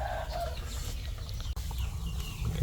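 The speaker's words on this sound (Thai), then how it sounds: "ไก่พี่น้อง" Chickens cluck and squawk at a rural home where meat and offal are being boiled for a spicy soup, steady mid-level farmyard clucking over a continuous low background rumble.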